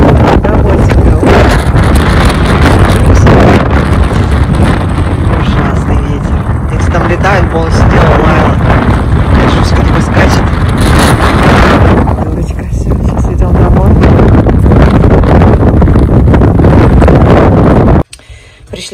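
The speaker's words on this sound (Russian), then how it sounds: "на улице жутко ветрено" Strong wind buffets the microphone outdoors on a snowy day, a loud, continuous roaring rumble with gusty swells that drops away abruptly near the end.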